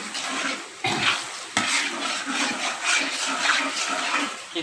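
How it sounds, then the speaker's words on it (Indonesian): Chili and shallots stir-fried in a pan, a steady broadband sizzle with stirring scrapes running throughout, loud and close, dipping briefly twice as the pan is worked. "kita tumis terus sampai kadar air dari si cabai bawang ini habis ya"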